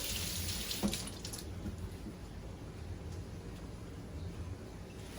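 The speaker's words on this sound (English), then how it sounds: "So wash off my can lid." Running tap water rinses a metal coconut milk can lid at a kitchen sink, a steady close splashing wash that holds throughout with one brief clunk near the start and no talking.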